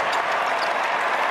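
A basketball dome crowd of over 23,000 at a Louisville vs. Syracuse ACC men's game rises in applause, a loud, continuous roar of clapping and cheering with no break.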